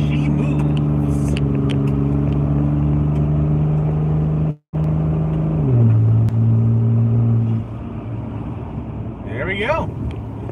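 A Dodge 3500 truck with a 4-inch turbo-back straight pipe and no catalytic converter or muffler drones loudly and steadily as it accelerates, with a brief drop in sound midway and the pitch shifting as it shifts gears.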